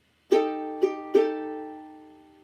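A ukulele plays a chord-melody arrangement: three close, clean chord strums on beats three and four, each ringing out and slowly decaying in a quiet room with no voices.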